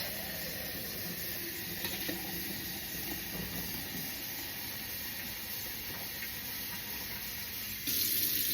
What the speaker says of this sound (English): so I figured adding warmer water will expedite that